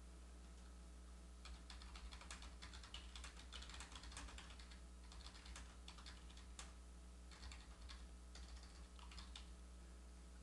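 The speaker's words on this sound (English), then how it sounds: "And we'll type a description here." Typing on a computer keyboard, a quiet run of light key clicks in irregular bursts with brief pauses, close and alone over a faint background hum.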